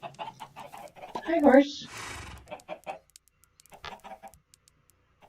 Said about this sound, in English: Where are those chickens?